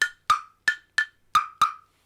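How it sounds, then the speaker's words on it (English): An agogo bell in a children's music lesson is struck six times in an uneven rhythm, each sharp close hit decaying quickly to silence. "that's an a-go-go"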